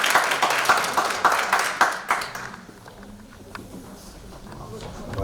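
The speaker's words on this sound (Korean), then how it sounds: "프로그램 발표를 위해 열심히 노력한 3조에게 큰 박수 부탁드립니다" Audience applause for presentation team 3 at a youth education and counseling department's student academic conference: a dense burst of clapping for about two and a half seconds that quickly thins out into a quiet room.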